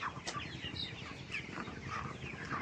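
Chickens raised on a sand floor give soft, scattered clucks, faint and somewhat distant over a low background.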